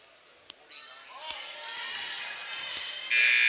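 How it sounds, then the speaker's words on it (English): Crowd noise in a gym at a basketball tournament game rises steadily, punctuated by a few sharp thuds, then a loud sustained buzzer blares at the very end, marking the end of the third quarter. "buzzer sounds for the end of the third quarter"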